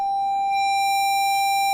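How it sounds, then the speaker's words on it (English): A modular synthesizer plays a triangle wave tone through an overdriven VCA, heard as a single steady, loud pitched tone with bright harmonics that holds unchanged and then stops abruptly. "So that's just a triangle wave."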